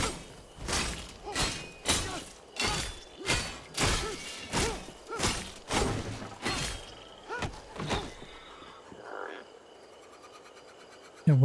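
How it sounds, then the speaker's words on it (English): Frog croaks in a video game, a rhythmic series of about a dozen deep, grunting pulses, almost boar-like, repeating steadily at close range, then fading into quiet ambience. "Sounds like a boar, but I think it's meant to be frog noises."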